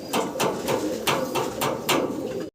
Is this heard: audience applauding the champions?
no